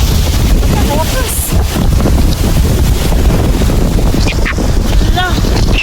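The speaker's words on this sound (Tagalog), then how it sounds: "24 hours yung hangin na to." Strong storm wind at an Australian campsite roars and buffets the microphone continuously, loud and gusty throughout, with a few faint vocal sounds half-buried in the rush.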